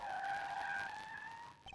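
Tires squeal loudly in the Ace Attorney video game as a car skids in one long, steady screech that cuts off abruptly, with no speech over it.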